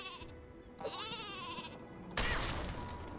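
In Worms W.M.D, an explosive sheep gives a clear wavering bleat, followed by a louder burst of game noise that sounds like a blast, set over a quiet background.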